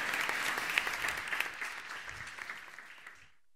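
An audience at a Spanish smart-roads conference breaks into applause, a dense patter of many hands with a few sharp claps that thins and fades to silence after about three seconds.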